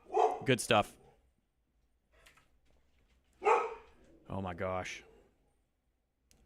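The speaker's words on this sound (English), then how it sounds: "If y'all can hear that barking, I'm very sorry." A few sharp dog barks ring out in short bursts, with a person speaking briefly before and after them.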